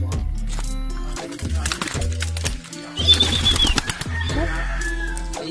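Pigeons flap their wings as they enter their coop, with several short fluttering bursts close by, mixed with someone speaking and other faint bird and yard sounds.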